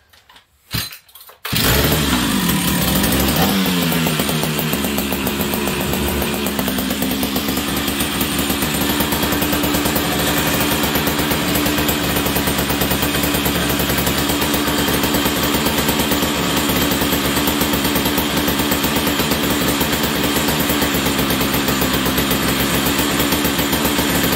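A big red chainsaw catches after a few pulls with the choke, then its engine runs loud and continuous at a high racing idle, a steady buzzing drone close up for the rest of the time.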